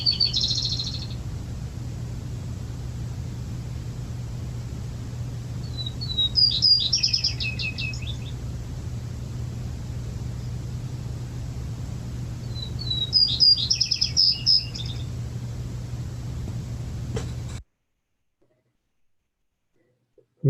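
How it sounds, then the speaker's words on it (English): Vesper Sparrow singing in the open, three separate bursts of high sweet notes ending in quick trills, clear and moderately near, with a low steady hum underneath and silence at the very end. "here we have the song of the Vesper"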